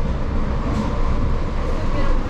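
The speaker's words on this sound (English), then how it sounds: "We're on another train." Inside a passenger train riding near San Diego, a steady, dense low rumble of wheels and carriage noise fills the cabin continuously, fairly loud and close throughout.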